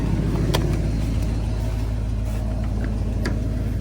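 An old 1979 or 1985 Ford F-250 pickup engine idles steadily and loudly up close, with an even, continuous rumble, a couple of faint clicks and no talk.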